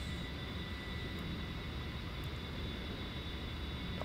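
Engines of a Fairchild A-10C Thunderbolt in DCS World during aerial refueling: a quiet, steady jet drone with a faint whine, continuous and even throughout.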